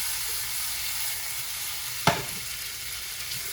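Shrimp sizzle in melting butter in a hot pan, a steady soft hiss running throughout, broken once by a single sharp utensil clink near the middle.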